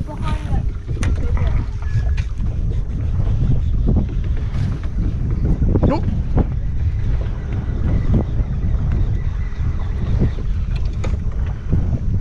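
Strong wind buffets a small fishing boat out on the flats, roaring steadily across the microphone with gusty thumps and water slaps, while faint voices are heard.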